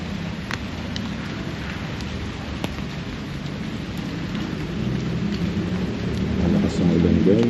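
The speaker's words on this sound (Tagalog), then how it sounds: "malakas ang ulan guys" Heavy rain pours steadily with a few faint distant thunder rumbles, the downpour swelling louder toward the end, no talking.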